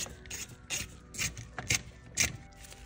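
A T15 screw is worked out of the button trim on a BMW E60 M5 steering wheel, giving a series of soft, rhythmic scraping ticks from the driver turning, close and quiet.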